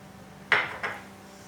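Two quick clinks of a metal spoon against a pot while milk is stirred with cardamom powder, the first sharper and louder, the second softer, with quiet room noise around them.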